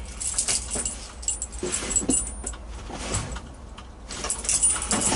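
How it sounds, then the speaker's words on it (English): Keys jangle and scrape in irregular bursts as someone tries different keys in a 1957 Chevy big-window V8 pickup. The metallic clinking comes close to the microphone, with brief quiet pauses between handlings. "Maybe we'll try one of these other keys."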